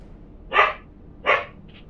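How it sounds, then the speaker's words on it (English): A dog barks twice, short and mid-pitched, in a Final Fantasy XIV Heavensward game scene, fairly close over a faint low background hum. "barking doesn't get you attention."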